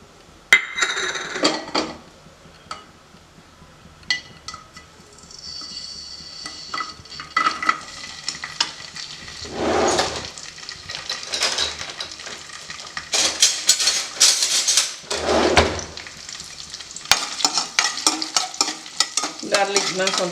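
Garlic sizzles in hot oil while a spoon scrapes and clatters against the pan in repeated bursts. The frying hiss swells at times and stays close, and no one talks.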